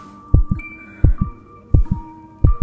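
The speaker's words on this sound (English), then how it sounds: "Her heart pounding" Heartbeat sound effect accompanying a story of a frightened woman's pounding heart: four loud, close lub-dub pairs in a steady rhythm over a faint sustained hum, with no talking.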